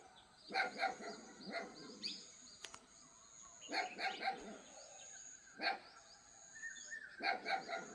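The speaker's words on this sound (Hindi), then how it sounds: "अब जिस हिसाब से पपी भौंक रहा है लगातार" A puppy barks repeatedly in short bursts, fairly close, with birds calling in the background between barks in a jungle.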